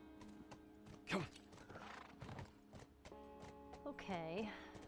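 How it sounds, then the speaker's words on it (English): A horse in The Last of Us on PS3 clip-clops with hooves and gives a short whinny near the end, mixed with game sounds and background effects. "You can dismount the horse by pressing triangle."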